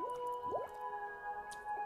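Water effects in The Darkside Detective game: a few soft, squelchy bubbling drips with rising gurgles, faint and close, over a quiet sustained musical tone.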